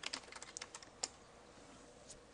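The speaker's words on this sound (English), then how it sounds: "and then you'll type in your password again." Quick bursts of keystrokes on a computer keyboard as a password is entered, soft close clicks in an irregular run then a pause and a final tap, faint and alone.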